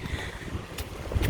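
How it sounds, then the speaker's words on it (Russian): Strong gusts buffet a handheld phone's microphone on a rainy walk home, giving a close, rumbling low roar broken by brief crackling bursts. "О, ветер такой, аж телефон с руки выбивает."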